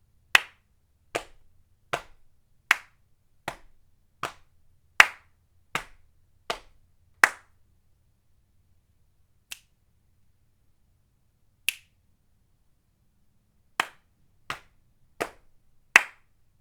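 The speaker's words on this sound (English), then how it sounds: "Snap, quiet, quiet. Snap, quiet, quiet, clap, pat, pat, clap, quiet, quiet." Body percussion made of crisp finger snaps, claps and pats, sharp isolated hits in a steady pattern with silent gaps between groups, clear and close with no talking.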